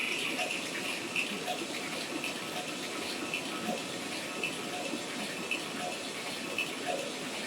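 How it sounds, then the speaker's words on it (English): A water trap fills with rising water in an 8-bit video game enhanced with an Ensoniq sound chip: a steady, hissing gush with soft, regularly spaced pulses running throughout. "the water trap has sound once the water starts rising"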